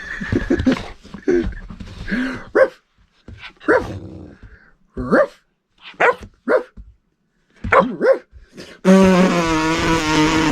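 A puppy barks in short excited bursts, answering a raspberry noise made at it, the yaps and yips close and spaced between quiet gaps, ending in a louder sustained burst.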